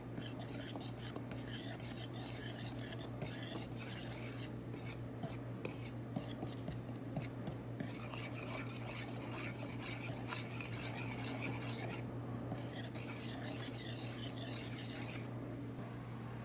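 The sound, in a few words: whisking flour, baking soda and salt together in a bowl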